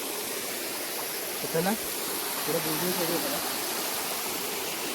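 Waterfall on a trek at Bhiravande, a loud steady broadband rush of falling water filling the scene, with a voice briefly speaking over it.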